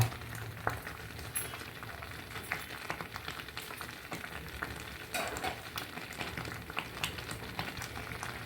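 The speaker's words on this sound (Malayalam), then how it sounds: "നന്നായിട്ട് തിളച്ച് വന്നിട്ടുണ്ട്" A pot of curry bubbling and sizzling steadily, with scattered spoon clinks and stirring scrapes over the continuous simmer.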